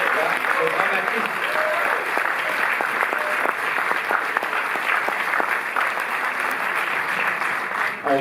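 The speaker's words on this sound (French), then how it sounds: "Pauline de Raymond, applaudissez-la aussi" Audience applause fills the hall at the opening of a film festival at the Cinémathèque in Paris, a steady, dense wash of clapping that carries on throughout with no gaps.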